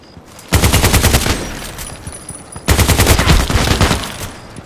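Two bursts of rapid automatic gunfire in the Contract Wars shooter game on the Station map, each a dense rattle lasting about two seconds, loud and close with a short gap between them.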